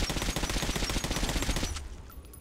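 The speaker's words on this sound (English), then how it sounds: "I wanna see what happens if I shoot him." A rapid burst of automatic gunfire in the video game Metro: Last Light runs loud and steady for about a second and a half, then cuts off and leaves a fading echo.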